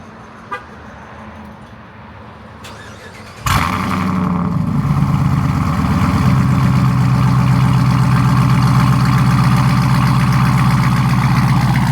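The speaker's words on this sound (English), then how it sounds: "I can't leave you guys hanging on what this Hellcat Durango sounds like" A Dodge Durango Hellcat engine starts with a sudden loud burst after a quiet stretch, then settles into a strong, steady, close rumbling idle that fills the rest of the clip, with no talk.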